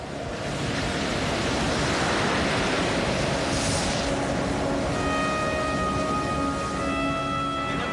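Strong ocean swell during a boat crossing near Friendship Island makes a constant, loud rushing roar of water and wind, unbroken and with no voices, with a faint engine-like hum emerging toward the end.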